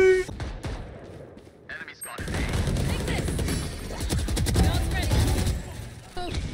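Gunfire from the Valorant video game rattles in quick bursts and single cracks, loud and busy, mixed with game effects, while a person talks over it.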